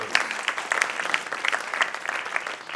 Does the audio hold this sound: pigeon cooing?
no